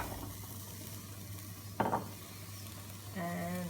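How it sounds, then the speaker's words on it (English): Sweet potatoes drop into a hot, spiced vegetable curry pan, giving a brief sizzling burst over a steady low background hiss, followed by a clattering stir near the end. "Let's put in the sweet potatoes"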